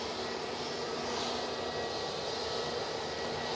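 Ryanair jet beginning its takeoff roll at Manchester Airport, a faint, distant broadband engine roar with a steady whine, held constant and unbroken for a few seconds.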